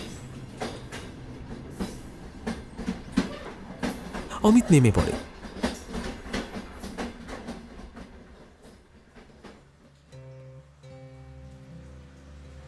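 A train pulls into Katwa station at night, with rhythmic rail clatter and rumbling building then fading, a brief squeal midway, while someone narrates over it.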